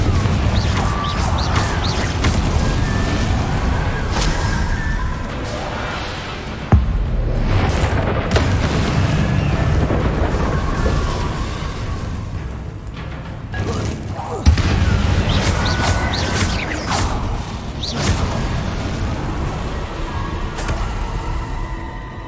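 The Confringo fire-blast spell goes off in Hogwarts Legacy, heard as loud booming explosions and crashes over continuous game combat noise, with two sharp impact bursts standing out partway through.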